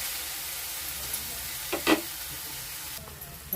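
Onion and tomato cooking in a pan with salt, a steady soft sizzle under faint broadband hiss, with a couple of brief louder stirring scrapes midway.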